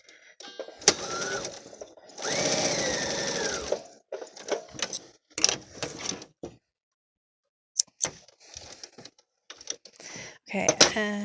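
Sewing machine tacking down the pleats of a fabric face mask with a narrow eighth-inch seam, running in short bursts and one longer stretch, close up, with a voice speaking between and over the stitching.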